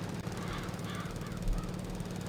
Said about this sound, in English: Oh, here are the crows.